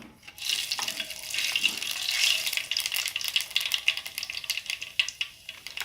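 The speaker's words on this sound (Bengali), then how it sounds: "এবার আমি ফোড়নে দিয়ে দিচ্ছি কালো জিরে" Nigella seeds (kalo jeera) sizzle as they hit hot oil for tempering, a dense, steady crackling hiss that swells after the first moment and keeps on close up, with no talk.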